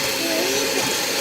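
An electric mixer whirs steadily through cake batter in a home kitchen, a continuous close motor drone with no talking.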